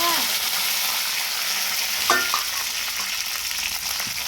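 Mustard seeds in hot oil for sambar in a home kitchen, giving a steady close sizzle with a few faint pops and a brief stirring scrape, with no talking.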